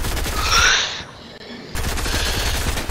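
Shotgun blasts in a Fortnite match ring out loud and close, with a burst of gunfire followed by a short lull, then more dense firing and game noise.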